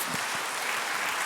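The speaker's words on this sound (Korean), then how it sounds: "우리 박수 한번" A church congregation applauds after a baptism service, with a dense, steady wash of clapping that fills the whole short moment evenly.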